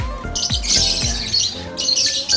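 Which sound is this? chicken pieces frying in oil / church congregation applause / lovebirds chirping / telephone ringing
lovebirds chirping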